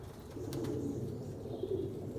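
Soft cooing from a flock of white pigeons, low and steady throughout with no voices.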